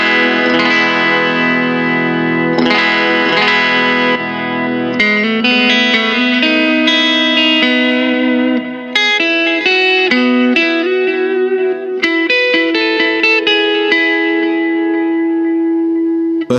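Electric guitar patch on a Line 6 POD Go modelling a Fender Bassman, a tilt EQ nudged up slightly around the upper mids, playing sustained chords and arpeggios with reverb and light drive, loud and continuous with no voice.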